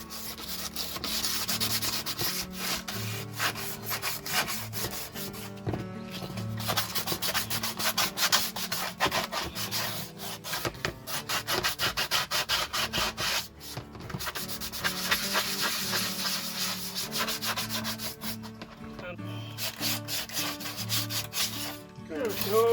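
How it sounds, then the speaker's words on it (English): The bottom of a plastic gold pan is scratched and roughened by hand, giving a continuous close raspy scraping with short repeated strokes and brief pauses, fairly quiet and with no talking. "You can see I'm starting to scratch that."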